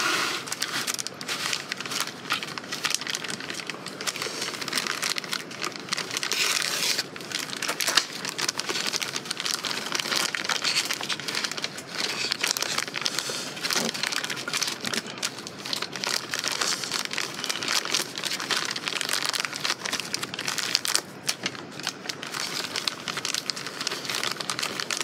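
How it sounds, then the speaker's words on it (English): Plastic packaging of a Beyblade X SharkEdge toy being cut open, a steady stream of crinkling and rustling plastic with small snips and scrapes, close and continuous with no talk. "Let's cut the package and get them out."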